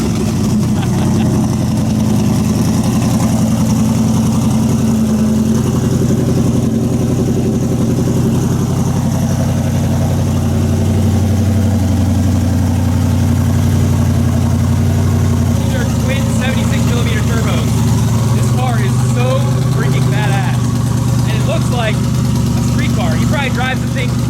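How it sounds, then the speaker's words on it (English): A twin-turbo Coyote V8 Mustang built to 2000 hp, running 40+ psi on twin 76 mm turbos, rumbles at a loud, steady idle throughout, with people talking over it in the later part. "Do you mind doing a little start up here?"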